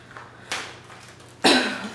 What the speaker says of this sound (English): Sorry if I keep clearing my throat